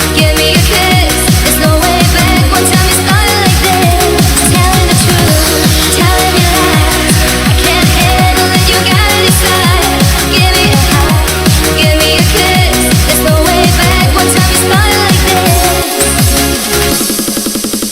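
A dense, loud Eurobeat track drives along with a steady pounding beat, snare hits and crash cymbal over layered synths, playing continuously without voices before thinning out near the end.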